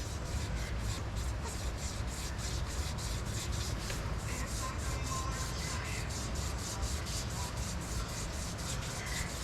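Wet sandpaper rubbing an engine crankshaft journal in place, a steady rhythmic scraping rasp repeating quickly and evenly, close and alone without talk.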